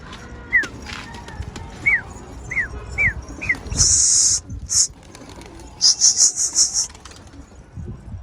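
A wild bird found on the street and its chicks take flight indoors, giving a short series of sharp chirps, then louder, sustained high calls nearby, with brief flutters between.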